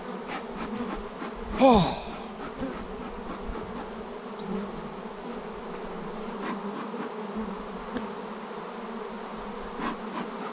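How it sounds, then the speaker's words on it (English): Honeybees swarm and buzz steadily around an open beehive during a late-August hive inspection, a continuous close drone with one louder pass near the mic, and a brief voice exclamation. "So we got bees everywhere now."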